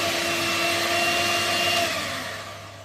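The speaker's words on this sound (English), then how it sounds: "But you can't hear me over that properly, so I'm going to get this whisked up." An electric mixer whisks cake mixture for a Sacher torte, a steady loud motor whir holding for about two seconds before easing off slightly, with no talking.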